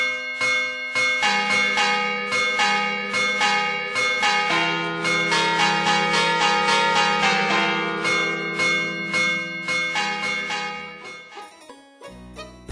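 Bells ringing in a bright, layered peal of overlapping strikes with long ringing tones, loud and continuous for about twelve seconds before cutting off abruptly, no voices.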